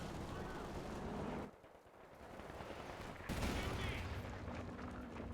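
Captured MG42 machine gun firing in Company of Heroes 2 amid battle noise, dense rattling bursts that drop out briefly then resume louder, with a voice talking over the combat.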